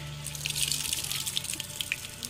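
Water squeezed out of wet moss while setting up a box habitat for adult beetles, a close trickling and dripping with bright splashy drops over about two seconds, no talk.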